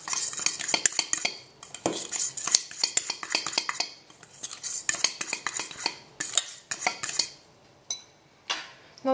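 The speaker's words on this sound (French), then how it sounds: "Je mélange le tout avec une fourchette." Fork mixing dry muffin ingredients like flour, leavening and salt in a bowl, rapid scraping and clinking of metal against the bowl in quick bursts with brief pauses, close and fairly loud.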